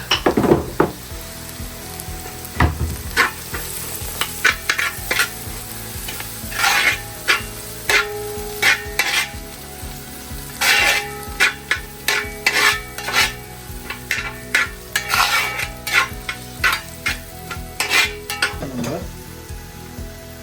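Onions and turmeric fry and sizzle in a pan while a spoon stirs and scrapes repeatedly, giving sharp irregular clinks over a steady hiss, close and fairly loud with no talk.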